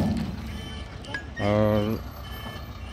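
A loaded truck at a mine material depot emits a steady electronic reversing beep, one clear tone burst lasting about half a second, over a background of engine rumble and outdoor noise, with someone briefly speaking.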